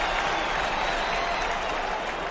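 A stadium crowd in PC Replay Baseball cheers and applauds in a steady, dense roar, loud and unbroken throughout.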